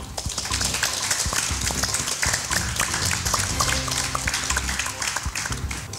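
Audience applause in a school theatre at Downe House Muscat in Oman: dense, steady clapping from a large crowd, loud and sustained throughout with no break.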